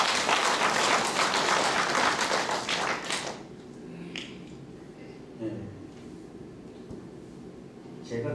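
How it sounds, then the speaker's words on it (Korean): Church congregation applauding, a dense burst of clapping for about three seconds that stops abruptly, leaving a quiet room with a few scattered taps and small noises. "우리 박수 한번 해주세요"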